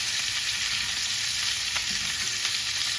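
Steak sizzling steadily in a pan of hot oil and butter with garlic, thyme and rosemary, a dense, continuous frying hiss with small pops, close and loud, with no talking.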